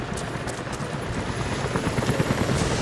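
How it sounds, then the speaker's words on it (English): Helicopters approaching in the video game Rise of the Tomb Raider, a dense, steady rotor throb with a broad roar and a faint high whine, loud and continuous with no talk. "helicopters are headed your way"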